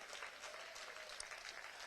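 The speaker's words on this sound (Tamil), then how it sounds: "எங்க பாஸ்டர் நல்ல ஒரு தகப்பன்னு சொல்றவங்க தலைக்கு மேல கைத்தட்டி ஆண்டவருக்கு நன்றி சொல்" A congregation at a church service claps hands together in a faint, brief burst of dense applause, distant and soft, with no voices over it.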